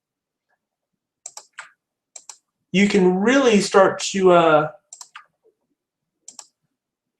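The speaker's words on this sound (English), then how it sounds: "Just by holding down the Alt key and clicking" Mouse clicks while editing in Photoshop, with the Alt key held down: a few short, sharp clicks in small clusters before and after a man's brief speech, set against near-silence.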